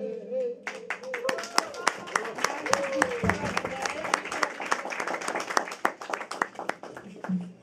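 Live audience applause at a Polish blues concert, dense clapping with a few cheers rising right after the song ends and continuing steadily, with someone talking over it.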